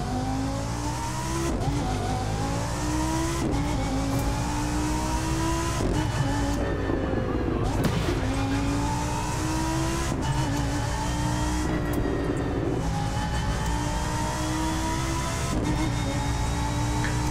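Lamborghini Huracan engine in The Crew 2 racing game, revving hard through repeated rising pulls with sharp drops at each gear change, loud and close, with occasional tire noise and no talk.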